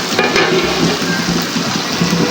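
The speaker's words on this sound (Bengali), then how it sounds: "আর এখন রোস্ট হচ্ছে।" A Bangladeshi-style roast cooks in a pan, giving a loud, close, continuous sizzling hiss with a dense bubbling texture that barely changes and no talking.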